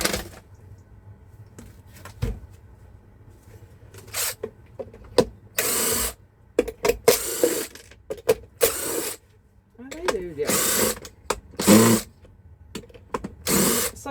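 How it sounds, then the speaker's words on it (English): A ratchet unscrewing brass plugs from scrap metal, with bursts of clicking and grinding separated by pauses, close by, and speech heard between the bursts. "Nice screwed on plugs to unscrew to get the brassy goodies."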